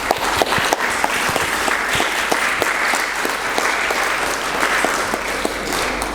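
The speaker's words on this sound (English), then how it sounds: "So a round of applause for the parents." An evening gathering at a Sikh art and heritage exhibition in Leicester applauds the parents, a crowd's dense, sustained clapping with sharp individual claps standing out, continuous and close.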